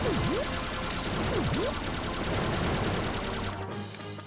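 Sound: cannon shooting in Pac-Man World Re-PAC Galaxian stage, video game

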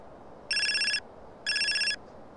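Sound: phone ringing in video game GTA San Andreas

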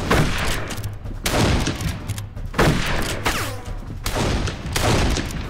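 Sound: gunfire shooting Germans in video game Darkest of Days

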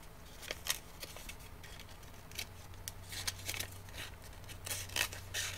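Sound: scissors cutting paper strip

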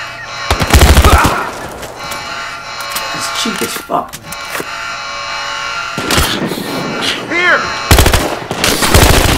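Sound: gunfire in the video game Battlefield Hardline

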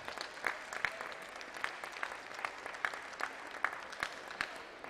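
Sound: applause for Youth B semifinalists

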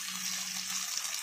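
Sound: pouring a little water into chicken afritada

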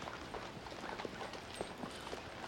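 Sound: horse hooves clip-clopping

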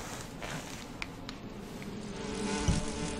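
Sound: bees buzzing in video game Metal Gear Solid 3

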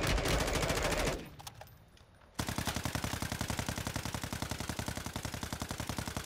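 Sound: gunfire from a video game battle royale

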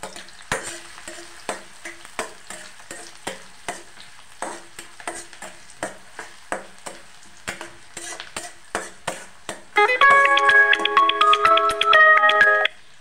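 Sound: onions frying and being stirred in a pan

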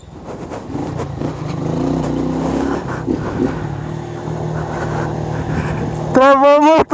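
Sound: motorcycle engine revving

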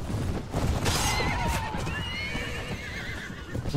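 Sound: horse neighing in video game Mount & Blade Warband

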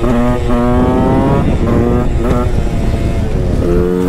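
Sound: motorcycle engine running

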